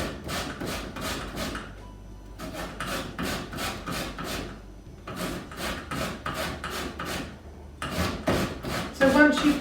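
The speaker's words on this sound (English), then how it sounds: "So once you've got the whole of the zest off, use all of it." A lemon rubbed against a grater for zest, giving quick, even rasping strokes in close repeated runs, broken by brief pauses.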